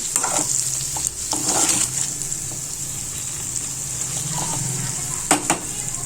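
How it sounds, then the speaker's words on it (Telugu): Potatoes frying on a low flame for a simple aloo fry, stirred with intermittent spoon scrapes over a soft continuous sizzle, close and without talk. "దీన్ని ఇప్పుడు లో ఫ్లేమ్ పైన పెట్టేసి ఒక 10 మినిట్స్ మెల్లిగా ఫ్రై కానివ్వాలండి"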